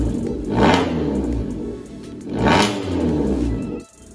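A Maruti Swift VXI with a Valvetronic exhaust switched on revs close by in two rising-and-falling surges, a deep rumbling engine note that cuts out sharply at the end.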